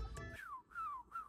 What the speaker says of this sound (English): At one part, he whistles like he's rapping.